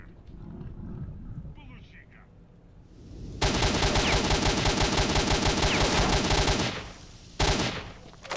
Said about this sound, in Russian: Куда я только что стрелял?